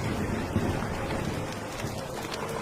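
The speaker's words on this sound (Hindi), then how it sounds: "तभी तेज तूफान आता है" A strong rainstorm sound effect plays as a steady, dense wash of falling rain and wind, with a low rumble underneath and no voices.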